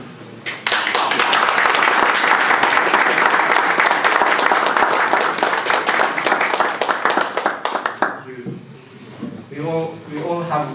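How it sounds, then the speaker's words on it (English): A graduation audience applauds coaches at a life-coaching ceremony: a dense, loud wall of clapping for about eight seconds, then it breaks off and a voice begins speaking. "Coaches, please stand wherever you are so you may give all a round of applause."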